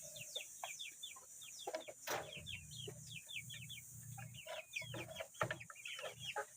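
Several chickens, including young roosters, cluck in short, busy bursts, with chirpy calls overlapping throughout and a low rumble of farmyard background underneath.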